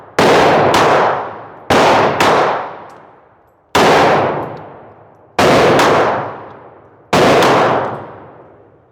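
Glock 25 Gen 3 pistol firing at a shooting range: five loud, sharp shots, several as quick doubled reports, each with a decaying echo, spaced a second or two apart with no talk.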